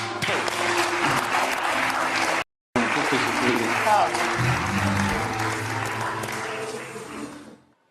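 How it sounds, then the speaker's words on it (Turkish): A live TV studio audience bursts into loud, sustained applause that cuts out briefly, resumes, then fades, while a guest speaks a few words of thanks over it. "Buyurun alkışlarla uğurluyorum"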